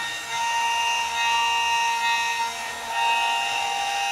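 A milling machine trims the edge of a part for an SMD pick-and-place carousel, giving a steady, loud high-pitched whine with a constant cutting hiss and slight rises in intensity as it moves around.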